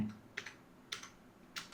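Computer keyboard typing comes as three short, crisp keystroke clicks spaced about half a second apart, close and fairly quiet, with no talking.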